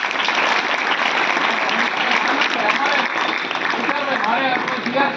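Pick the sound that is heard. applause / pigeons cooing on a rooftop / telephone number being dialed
applause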